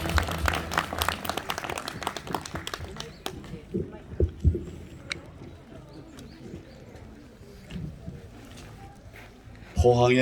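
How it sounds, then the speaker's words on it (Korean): A crowd at a political rally in Pohang, Korea claps loudly for a few seconds before the clapping thins into scattered claps amid crowd voices and nearby talk. "여러분 뜨거운 박수 부탁드립니다"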